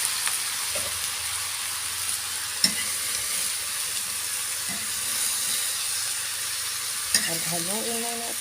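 Sponge gourd frying with garlic in a pan while being stirred, a steady loud sizzle and hiss with occasional utensil scrapes and clicks against the pan, close by.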